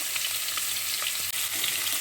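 Large prawns frying in hot oil for a kochur loti dish, giving a close, continuous hiss and crackle with faint spatter pops.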